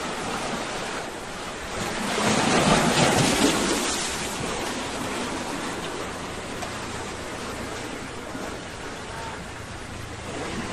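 Strong rushing water near a sea cave at Bantay Abot Cave, a steady broad roar of current and surf with wind buffeting the microphone, swelling louder for a few seconds before settling back to a constant wash.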